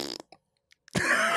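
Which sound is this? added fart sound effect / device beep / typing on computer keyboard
added fart sound effect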